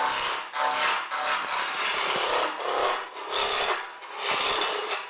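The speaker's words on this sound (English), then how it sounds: "I'm using a roughing gouge, big roughing gouge" A big roughing gouge cuts a spinning wood blank on a lathe while roughing a baby rattle, giving a rasping, scraping roar that swells and fades in repeated passes, close and continuous with no talk.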